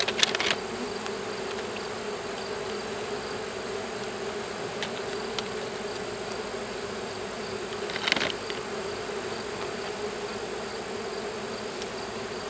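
Honeybees in an opened hive during mite treatment, a constant close buzzing drone with a few louder passes as bees fly near, plus faint handling clicks, no talk.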